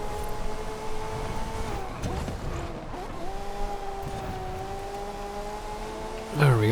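A Ferrari F40 in Forza Horizon 5 racing downhill, its engine holding a steady high drone with pitch dips on gear changes and a rising growl at the end.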